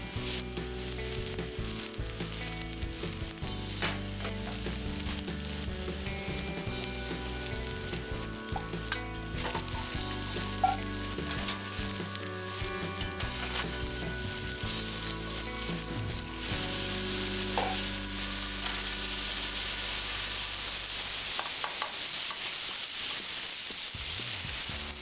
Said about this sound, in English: we'll go ahead and put these mushrooms in.